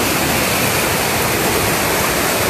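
Floodwater pours into a residential neighbourhood in Rosario de Lerma, a loud, constant rushing roar of water filling the whole clip without a break and no voices.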